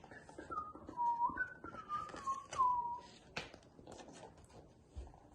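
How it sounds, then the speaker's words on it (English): A sweet, tuneful whistled melody from a storyteller's lips, rising and falling in clear phrases for about three seconds before trailing off into quiet rustles. "he started to whistle a sweet song"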